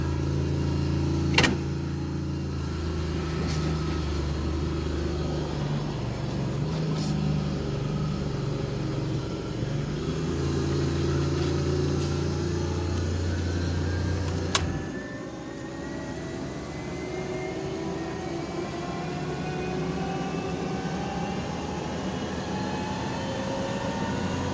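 A one-ton truck towing a loaded trailer climbs a hill, its engine a steady loud drone with a low rumble, shifting tone about halfway through as it keeps pulling.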